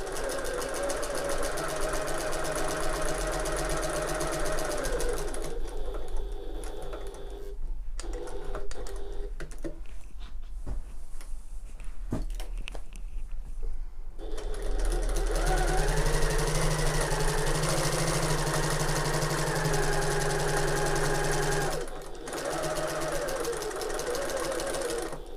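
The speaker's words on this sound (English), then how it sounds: "these are long basting stitches, so I can always remove them afterwards if they are visible" A sewing machine runs long basting stitches on an open top tote, a steady mechanical whir that surges and slows, pausing briefly midway before running on at full speed.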